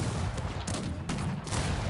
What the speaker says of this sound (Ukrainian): давайте, коротше, гаубиці сюди стріляйте